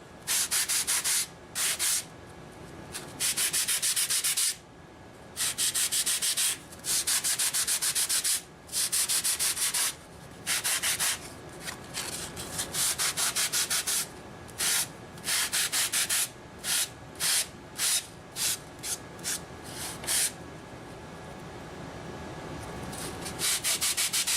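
Sanding and shaping a motor mount for an FPV race wing, a steady abrasive rasp in long strokes broken by brief pauses, close and loud, continuing for the whole stretch with no voices.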